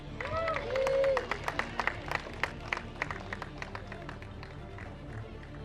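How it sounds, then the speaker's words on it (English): Scattered applause at an outdoor kart race podium ceremony in the IAME Middle East Cup, a modest crowd clapping in a sparse, uneven rhythm at middle distance, with an announcer's voice and background noise at the start. "a round of applause for Samar Chopra"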